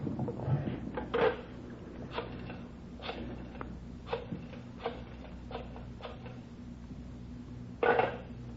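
A telephone is slid across a surface and dialed, a series of faint clicking ticks spaced about a second apart, with a couple of louder clunks near the start and end.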